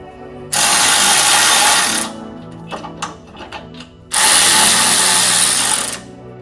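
Power tool on Toyota Tacoma dual exhaust hardware, likely an impact driver or power ratchet: two loud sustained bursts of about one and a half seconds each, separated by a quieter stretch of clicks and clatter, close up with no talk.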